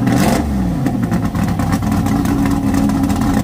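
Loud Trans Am race car engines roar at Sonoma Raceway, a dense, continuous, rasping drone of several powerful engines passing close by.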